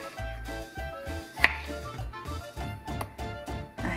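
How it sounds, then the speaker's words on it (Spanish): A knife cutting large tomatoes into quarters on a board in a home kitchen while liver and onions are being made, giving several soft chopping thuds with a sharper click near the middle, over a low background hum. "los vamos a cortar en cuatro."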